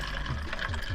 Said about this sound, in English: I poured every last drop of water I could find in my car